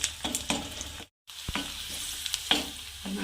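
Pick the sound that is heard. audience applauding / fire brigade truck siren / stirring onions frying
stirring onions frying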